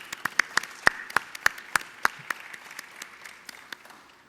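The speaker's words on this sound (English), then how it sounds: "Let's give them a round of applause." Audience applause at the unveiling of the new Terminal B arrivals and departures hall at LaGuardia Airport: a thin scatter of distinct handclaps, fairly faint and distant, tapering off over a few seconds.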